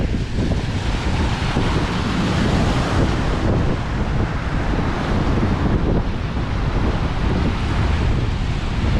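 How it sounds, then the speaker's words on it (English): Saltwater surf crashing on a beach on Fraser Island, heard as a loud, constant roar of breaking waves mixed with heavy wind buffeting against the microphone, with no voices. "there is a big saltwater wave"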